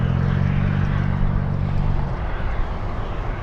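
A Boeing 747 Dreamlifter at Anchorage airport produces a loud, steady roar of jet engines heard from nearby, a broad rumbling wash that keeps up without a break.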